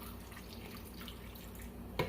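About ten ounces of water pour steadily into a pot of onions and garlic for a red chilli tomato sauce, a soft, even splashing stream that ends with a brief brighter splash.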